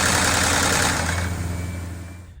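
A Maserati GranTurismo engine runs steadily on a cold start with a low, throbbing rumble and a faint rattling knock, fading slightly toward the end.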